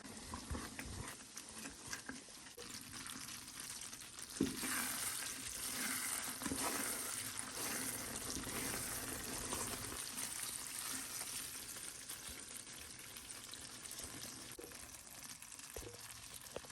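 Thick bukayo coconut candy stirred in a pan with a ladle as it cooks down dry and sticky, giving a steady soft sizzle with scraping and stirring strokes throughout, close and moderate.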